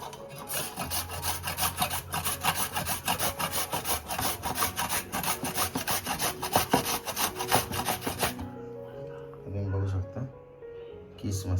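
Peeled raw green mango being grated for a sweet mango murabba preserve gives a fast, steady run of rasping, scraping strokes that carry on loudly for about eight seconds, then stop, leaving quieter background sounds.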